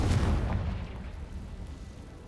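A Confringo blasting spell explodes in a Harry Potter video game with a deep, loud boom at the start that rumbles and fades slowly over about two seconds.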